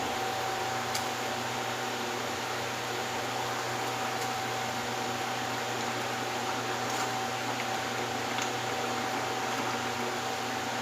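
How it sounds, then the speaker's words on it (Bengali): Hariyali rui fish curry gravy boils in a pan with a steady, even hiss and faint bubbling that carries on alone, accompanied by a constant low tonal hum. "ঝোল আমার ফুটে গেছে"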